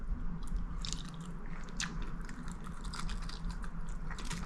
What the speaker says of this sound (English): I am eating with chopsticks in my hotel room